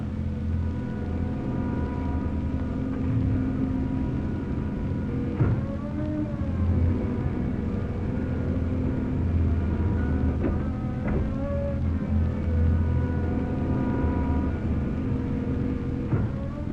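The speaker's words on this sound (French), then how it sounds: "Le moteur de tourelle mis en route" A steady mechanical tank turret motor drone from a 13-tonne AMX tank hums continuously, with a faint whining pitch that rises and falls now and then, close and fairly loud.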